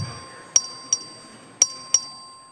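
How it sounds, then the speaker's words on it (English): A voting bell in a legislative chamber dings four times in quick, uneven strikes, each a bright ring that fades fast in a quiet room. "The clerk will ring the bell."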